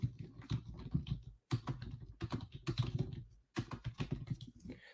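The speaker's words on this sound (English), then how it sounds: "So that I'm going to be typing in the chat" Fingers type on a computer keyboard in quick, close clicking runs, separated by a few brief pauses.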